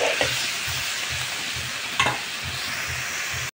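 Spices being stirred into duck curry frying in a pan, a steady hiss of sizzling oil broken by rhythmic scraping strokes of the spoon and one sharper clink, with no voices.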